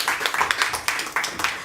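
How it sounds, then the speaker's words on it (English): An event audience applauds sponsors, a burst of many hands clapping close and lively, with uneven bunched peaks throughout. "Please help me clap for them."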